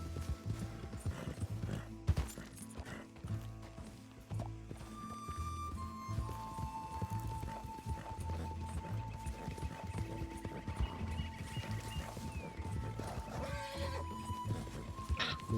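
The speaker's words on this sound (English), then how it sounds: "Ó o cavalo saltador, rapaz." A horse in Red Dead Redemption 2 clip-clops at a steady gallop with a whinny breaking through, set against in-game music and ambient noise, with no voices.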